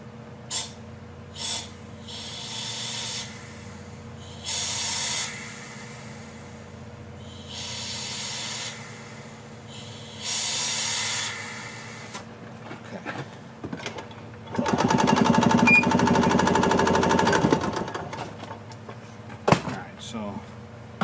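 A 1986 Yamaha G1 gas golf cart's fuel pump primes the fuel system in short hissing, pulsing bursts, repeating several times before one longer, louder stretch, close by with quiet gaps between.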